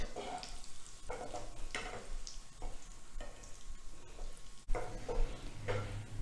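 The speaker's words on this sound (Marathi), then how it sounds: "आणि छान शॅलो फ्राय करून गुलाबी रंगावर भाजून घ्यायचे।" Poha rolls shallow-fry in a pan over a low flame, giving a close, even sizzle that swells in repeated bursts as the rolls are shifted, with a faint low hum underneath.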